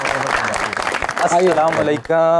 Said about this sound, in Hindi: बहुत सारी तालियों में वेलकम कीजिएगा